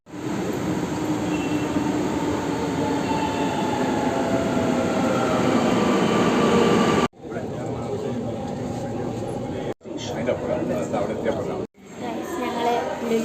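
A metro train rumbles at a metro station, loud and steady for about seven seconds, then breaks into quieter stretches separated by abrupt cuts.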